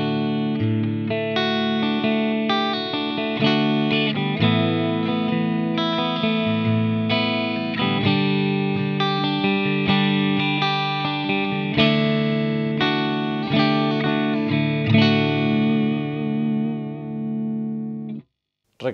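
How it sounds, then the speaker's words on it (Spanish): A clean electric guitar through an Axe FX 3 amp modeler plays a steady run of clear, bright chords and single notes for several seconds, then rings out and stops. "Así que el canal limpio del amplificador,"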